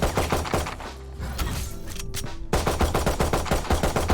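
Rapid automatic weapon fire in the Valorant video game, a dense string of loud, evenly spaced shots that thins briefly in the middle and then resumes at full rate, with no talking.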